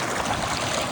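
Mountain stream at Lachung, North Sikkim, rushes past close by in a loud, steady broadband wash of flowing water, unbroken and without voices.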